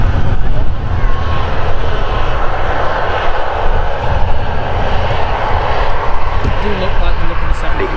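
A TUI airliner turns on the ground at Manchester Airport, its jet engines giving a loud, steady roar that stays close and constant, with a voice talking over it.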